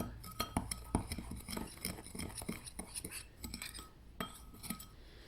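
Lip mask powder with mica being stirred in a glass container, giving quiet, close, irregular clinks and scrapes of a utensil against the glass.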